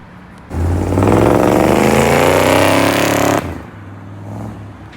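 A V8 pickup truck with a side-exit exhaust pulls away, its deep, loud engine roaring and rumbling exhaust swelling abruptly for about three seconds before cutting back to a low idle.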